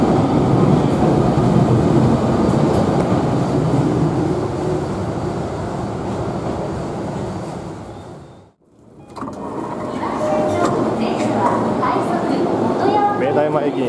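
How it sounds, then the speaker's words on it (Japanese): A Keio Line train in Japan departing a station and running, with steady rumbling traction and wheel noise throughout, a brief dip into near silence midway, then the running noise resuming at full level; a voice speaks over it. "列車発車とのことで、乗車をいたしたいと思います。"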